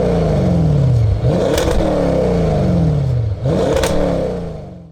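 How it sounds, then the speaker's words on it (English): An Audi S6 exhaust fitted with a 034 X-pipe resonator delete revs loudly up and down in two full sweeps, each rising to a peak and dropping back to a steady idle rumble, with no talking. "let me go and take the time to give you a couple sound clips for the S6 exhaust"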